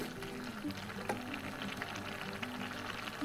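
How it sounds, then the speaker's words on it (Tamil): A seven-vegetable Tamil curry bubbles at a steady boil in an uncovered pot, a continuous soft simmering with a faint voice underneath. "இப்போது நல்லா கொதிக்கட்டும்."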